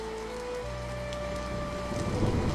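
Steady heavy rain pours outside under a dark cloudy sky, a continuous broadband wash that swells slightly louder toward the end, with no voices over it.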